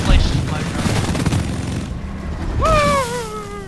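Heavy gunfire in the Deep Rock Galactic video game: a loud, continuous rattling fusillade of close shots and booms fills nearly the whole stretch, with a brief lull before a voice speaks over the fire.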